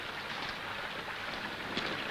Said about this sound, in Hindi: बारिश को तो देखो, 7 दिन हो गए, एक पल को भी नहीं रुकी